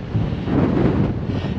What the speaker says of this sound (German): Aber der Wind hat kräftig zugenommen.